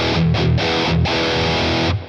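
Electric guitar played through a Boss Katana amp's Metal Zone distortion, several short heavy palm-muted chugs then a sustained thick distorted chord that stops abruptly.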